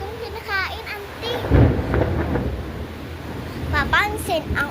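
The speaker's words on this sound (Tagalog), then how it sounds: "Papansin ang ulan at saka kulog." Rain falls steadily with a deep rumble of thunder midway, heard under a child's chatter and other voices that run through most of the stretch.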